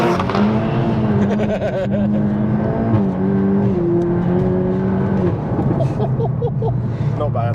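A tuned 450 bhp VW Golf GTI Mk8 pulls hard through the gears from inside the cabin, its engine note climbing steadily in pitch with a shift dip, while people talk over the loud drone.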